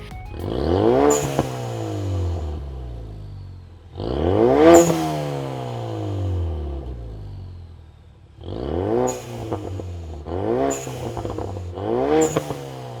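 A Ford Mustang EcoBoost with a Pypes Street Pro Touring axle-back exhaust revs up loudly in five separate bursts, each climbing and then falling away, with the last three coming in quick succession.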